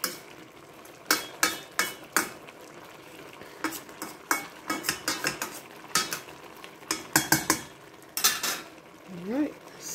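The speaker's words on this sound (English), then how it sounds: "Scrape all this down that's on the side." Metal spoon scraping and stirring mustard greens with seasoned ham hocks in a cooking pot: repeated clattering scrapes in irregular bursts against the pot's sides, fairly close, with a faint sizzle underneath and no talking.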